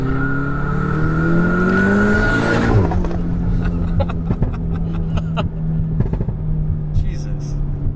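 Tuned APR Stage 3+ VW Golf R launching hard, the engine note climbing steadily as turbo boost builds, then a sharp shift and continued loud acceleration with road and tire noise, a voice speaking over it.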